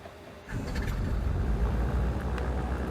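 A twin-engine Trislander's engine starts up in a flight simulator, a faint whir building into a steady, loud engine drone that holds without a break.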